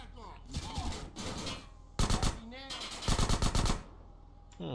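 Gunfire in the game GTA San Andreas, repeated loud automatic bursts punctuating the action, mixed with character voices shouting between volleys.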